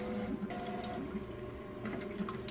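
A Bio Bidet BB-1700 bidet toilet seat sprays water in a continuous, steady hiss with faint splashing, close by and without talk.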